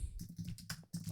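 A computer keyboard being typed on while searching during a React debugging demo: a quick run of close, crisp key clicks in an irregular rhythm, with no voice over them.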